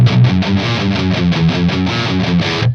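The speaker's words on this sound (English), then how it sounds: "It is not the tightest distortion because there's a lot of low end going" Distorted electric guitar played through a preamp and loadbox, a loud, chugging riff with heavy low end, dry and uncompressed, in tight rhythmic repeated chords with no voices.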